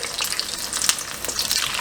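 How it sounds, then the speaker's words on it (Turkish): Shrimp crackle and sizzle as they fry in hot oil, a close, steady hiss dotted with sharp little pops, with no talking. "Yağımızı iyice kızarttık. Bırakıyoruz içine. Bak. Bak nasıl? Cozul cozul ediyor bak."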